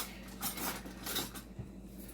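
Knife cutting through a loaf of garlic cheese bread on a pan, giving a brief scraping and clinking of blade against the metal, close and moderately quiet, with no talking.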